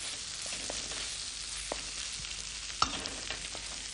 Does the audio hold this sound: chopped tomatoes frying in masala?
yes